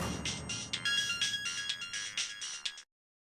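An electronic phone ringtone plays a repeating melodic pattern for about three seconds, steady and fairly loud, then cuts off abruptly into silence.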